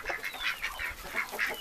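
Ducks and geese in a barn, including a Muscovy duck, a runner and a crested duck, honk and quack in quick repeated calls while being fed bread, close and lively.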